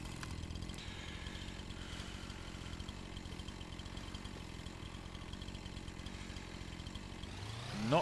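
A steady, droning engine that fits a chainsaw cutting down trees, running continuously at close range with an even pitch and a brief surge right at the end.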